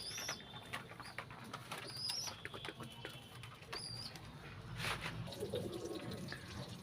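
Pigeons being handled at close range, a black-and-white pair among young birds, with soft cooing and chirpy calls over scuffling and faint background noise, no talk.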